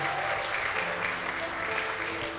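A church congregation gives steady, sustained applause, a dense wash of clapping hands filling the room without a break.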